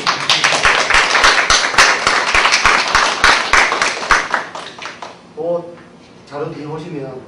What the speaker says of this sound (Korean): 일단 박수 좀 치고 해야 된다.